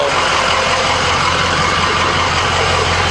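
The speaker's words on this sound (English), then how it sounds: "Let me show you the engine real quick" A 2006 Chevron engine idles steadily and close by for the whole stretch, a continuous low rumble with a broad mechanical hiss and no voices over it.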